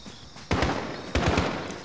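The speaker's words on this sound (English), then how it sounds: "Oh shit. Shot fired." Two sharp bursts of gunfire ring out in Call of Duty: Modern Warfare, the first a quick double shot and the second a rapid triple, close and loud over a quiet night ambience.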